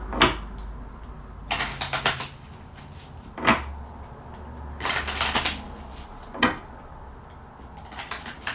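Tarot cards are shuffled in several short bursts of riffling and snapping, separated by pauses, close and fairly quiet.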